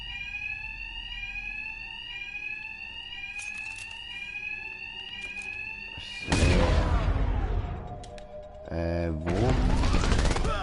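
A rising, repeating electronic alarm whoops in the game Batman Arkham Knight, then loud bursts of action and impact noise cut in and swell over it.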